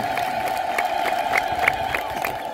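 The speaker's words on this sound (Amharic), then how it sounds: "እሺ እልል በሉላቸው እስቲ እግዚአብሔርን አመስግኑላቸው" A church congregation ululates together in repeated sharp, high trilling bursts, loud and close, forming a crowded celebratory chorus with faint voices mixed in.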